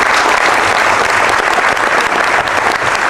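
Audience applause at an artist question-and-answer session aboard a cruise, loud, dense and sustained clapping that fills the space evenly from start to finish with no voices.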